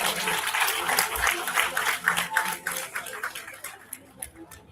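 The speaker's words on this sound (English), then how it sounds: "Please do give a big round of applause." An audience applauds at an awards ceremony: dense, steady clapping that thins out toward the end into a few scattered, separate claps.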